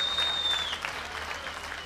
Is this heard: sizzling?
no